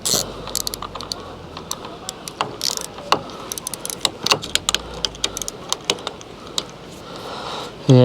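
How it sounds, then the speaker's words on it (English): A screw is put in and tightened with a Torx driver while fitting an Alko friction pad. It gives a quick run of sharp metallic clicks and ratcheting ticks, close and fairly loud, ending in a brief tonal buzz. "Put the screw in like so. Swap that to tighten up."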